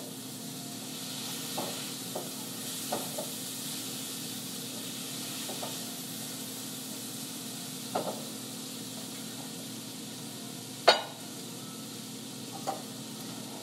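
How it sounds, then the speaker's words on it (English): Spinach sautés in a pan with a steady, moderate hiss of frying, broken by a few sharp clicks and scrapes as it is stirred, with no talking. "After that, I'm going to add in the spinach."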